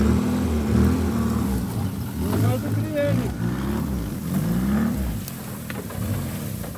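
A car drives along a rural road, its engine a steady low hum with slight rises in pitch, while people talk over it throughout.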